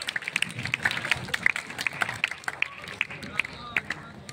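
An outdoor crowd claps for the Tangkak district fire and rescue team at a fire drill demonstration, with clear, fairly close individual hand claps in an uneven rhythm over crowd murmur.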